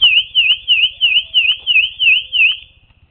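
Theft Alert portable theft alarm sounding a loud, rapid warbling electronic siren in steady repeated sweeps for nearly three seconds, then cutting off, with no talk over it.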